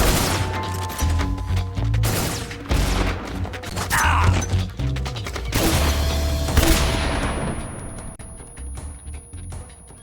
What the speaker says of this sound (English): I did not use a stun grenade, they did.